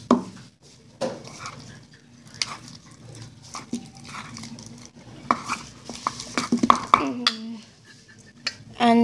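Slime solution made with baby oil gets stirred in a bowl up close, with irregular wet clicks, taps and scrapes against the bowl that grow busier toward the end.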